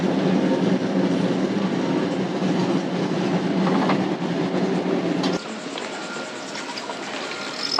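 A zoo tram train rolls into its main camp station, steady rumbling and clacking of wheels on rails close by, easing and quieting partway through as it slows to a stop.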